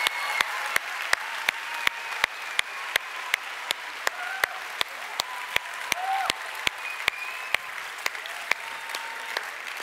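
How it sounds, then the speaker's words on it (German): Applause for a youth team from Nierenhof at a competition finale, a steady dense wash of clapping with sharp regular clicks cutting through, some whistles and voices faint underneath. "Trotzdem ein riesen Applaus für den spektakulären Einsatz."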